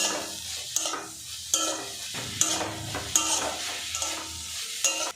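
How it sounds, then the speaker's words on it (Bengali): Ginger garlic paste stirred in a hot oiled pan while cooking radish: a spatula scrapes in a regular rhythm of about seven strokes over a soft background sizzle, close and clear, with no talk. "আদা রসুন পেস্ট দিয়ে একটু নাড়াচাড়া করে নেব"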